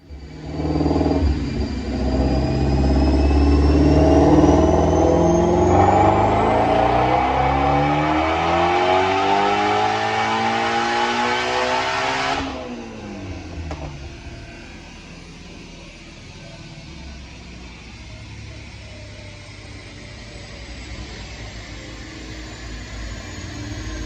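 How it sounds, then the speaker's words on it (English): A Whipple-supercharged 2019 Ford Mustang GT350 on a dyno pull roars loudly, climbing steadily in pitch with a rising whine for about twelve seconds, then abruptly cuts off and winds down to a low idle. "we're going to make a dyno pull, see what this thing makes"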